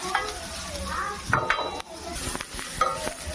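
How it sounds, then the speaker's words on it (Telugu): Onions and green chillies sizzling in a pan over a low flame while a ladle stirs and scrapes them, with a steady frying hiss and a few louder scrapes, close and without talk. "తర్వాత మనం గరిట వేసి తిప్పుతూ ఉండాలి"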